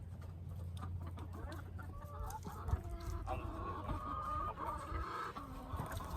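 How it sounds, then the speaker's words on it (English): A chicken being chased clucks repeatedly in short, uneven bursts, close and fairly loud, over a low background rumble, with brief scuffling sounds. "I got a chicken."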